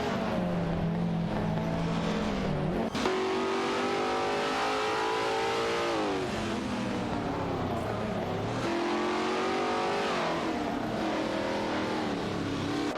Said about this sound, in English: Let's have some fun watching these AI race cars zoom by.